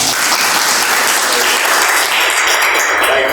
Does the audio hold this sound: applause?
yes